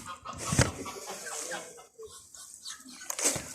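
Geese and ducks feeding on greens, with close pecking and clucking bird sounds in irregular bursts, brief honk-like calls near the start and end, and no talk.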